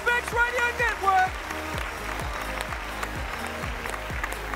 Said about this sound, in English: And a big round of applause to Merrick, Jules and Rachel.